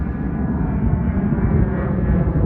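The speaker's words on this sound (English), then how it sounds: "There's a plane up there." Airplane passing overhead above a historic motorsport festival paddock at Donington, a steady broad engine drone, fairly loud and continuous, with no speech.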